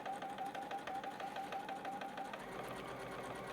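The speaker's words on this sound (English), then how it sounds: "I'm just going to go ahead and stitch through, cut those threads" A sewing machine fitted with a single hole stitch plate and edge guide stitches quilt pieces in a steady, rapid mechanical rhythm, close but fairly quiet, running continuously with no talk.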